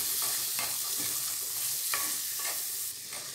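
Chickpeas with salt stirred in a pan, a close steady hiss broken by several brief scraping strokes of a spoon at an uneven pace, with no voices.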